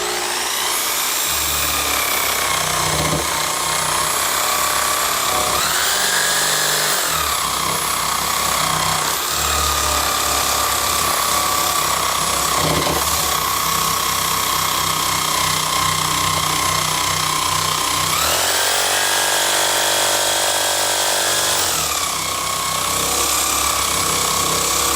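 Power sander with sandpaper removing wood material, a loud continuous whining grind with pitch shifts as pressure changes, close and alone without talk.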